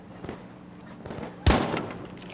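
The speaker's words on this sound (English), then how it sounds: "Stop shooting at me!" Battlefield V open beta multiplayer gunfire: scattered faint shots through the first stretch, then a loud close blast at about one and a half seconds with a ringing tail and further distant shooting.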